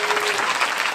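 A church congregation at a Bulgarian evangelistic service claps for Jesus, with steady, dense applause filling the room throughout.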